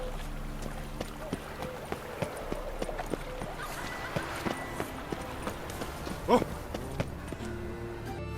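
Hooves of a horse in The Witcher 3, a steady clip-clop of footfalls on hard ground, moderately close, with a brief snort or whinny partway through and no talking.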